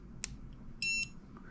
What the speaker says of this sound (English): You see that little beep?